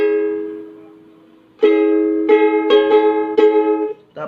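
A chord for Juan Karlos Labajo's song Buwan, fretted on ukulele or guitar and ringing close and clear: one long decaying chord, then a quick run of rhythmic strums.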